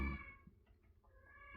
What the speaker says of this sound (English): If you hear her crying, that's not a baby, that's my other cat.